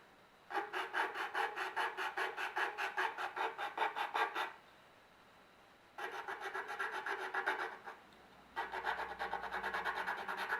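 Sandpaper rubs rapidly over the corners of a foamcore board game organizer box in three bursts of quick rhythmic back-and-forth strokes, close and fairly quiet, with short pauses between bursts and no talking.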